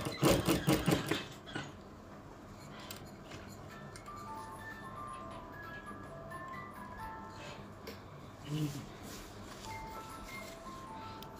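A sewing machine stitches around a baju kurung kedah, opening with a short loud burst of rapid mechanical clatter, then running as a steady quieter whir with a brief louder pulse later on.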